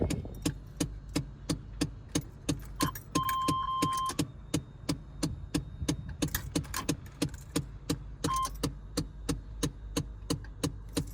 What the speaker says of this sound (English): turn the key, prime the fuel pump